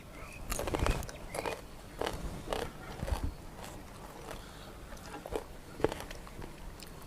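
Crisp bites and chewing of a chilled, crunchy red peach dipped in chili salt, several sharp crunches early on that fade into softer, quieter chewing close to the mic.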